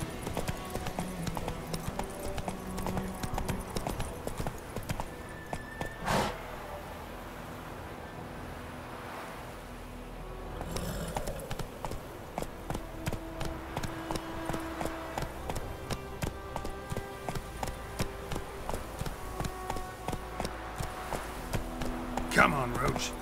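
Hoofbeats of Roach, the horse in The Witcher 3, clip-clopping in a quick, steady rhythm at close range, fading briefly before resuming, over wind and ambient game sound, with a voice speaking in places.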